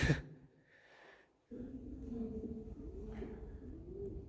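Low, throaty pigeon coos repeat softly at close range after a brief pause, with a faint rustle at the start.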